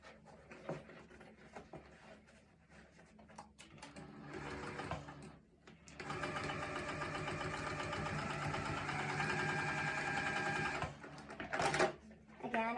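A sewing machine stitches a zipper case made of shapeshifter vinyl, running in short bursts at first, then a steady, close, fast whir for several seconds before stopping, with a few faint clicks.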